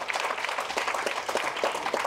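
Audience applause at a Tamil film trailer launch event, a steady wash of clapping from a crowd honoring an associate director, sustained and fairly dense throughout.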